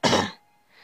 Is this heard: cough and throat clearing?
yes